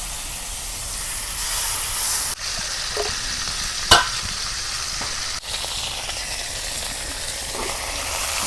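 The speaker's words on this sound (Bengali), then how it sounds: "এখন মাছগুলো ভেজে নিব।" Pieces of pangas fish frying in a little hot oil in a pan, a constant close sizzle and hiss broken by a few sharp pops and utensil knocks.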